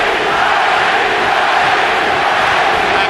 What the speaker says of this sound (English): Pacquiao crowd chanting